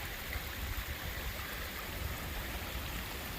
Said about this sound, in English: we've been hiking next to this beautiful little stream